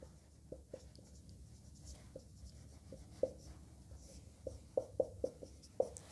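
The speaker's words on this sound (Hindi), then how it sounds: "क्वेश्चन में लिख देता हूँ यहाँ पर" Chalk or marker writing out a maths question on a board during a geometry lecture, a series of short, faint taps and scratches in an irregular rhythm, with no talking.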